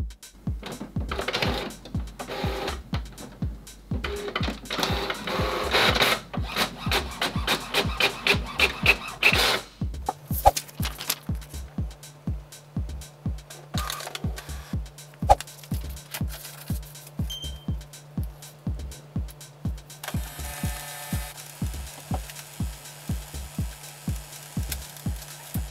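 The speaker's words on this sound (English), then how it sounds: "I have sent a page of bingo cards to your printer." HP OfficeJet Pro 8023 all-in-one printer prints a page of bingo cards, with a rapid steady mechanical ticking and clacking of the print head, a whirring feed, and shifting motor tones, loud and close throughout.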